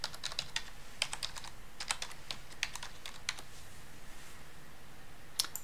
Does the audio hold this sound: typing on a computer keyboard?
yes